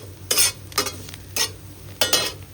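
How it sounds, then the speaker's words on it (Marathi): A tempering of chili flakes, green chili and asafoetida sautéed in a pan for potato bonda: four short, bright scraping stirs at a steady pace, with low sizzling between them. "थोडंसं हिंग पण घालायचं आणि छानपैकी आपण हे परतून घ्यायचं"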